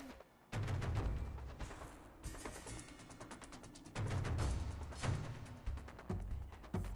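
Video game gunfire bursts out in rapid volleys, loud and close, repeating in clusters with short pauses between them and no talk over it.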